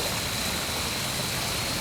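A creek flows steadily at night with a constant, broadband rushing and gurgling, even and unbroken throughout, with no voices.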